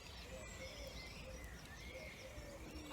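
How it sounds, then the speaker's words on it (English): Faint birdsong drifts in from a distance, soft chirps and tweets over a quiet outdoor hiss. "Can you hear the birds?"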